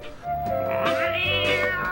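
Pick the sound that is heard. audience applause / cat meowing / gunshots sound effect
cat meowing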